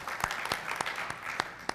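Brief burst of audience applause at a school board workshop, a room of people clapping in a quick, uneven patter of sharp claps that lasts under two seconds.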